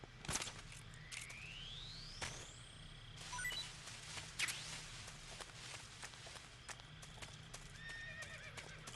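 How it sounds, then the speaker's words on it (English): A horse whinnies in the Metal Gear Solid 3 video game, with clip-clopping hoof steps and electronic game chirps and tones around it, no talk. "A horse?"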